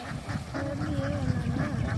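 Several ducks quack repeatedly in a lively, overlapping chorus, close by, with a steady low background rumble.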